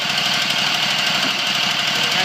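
The engine of a 3940 stump grinder runs at a steady, loud, rough idle, close by with a constant knocking rumble and no breaks.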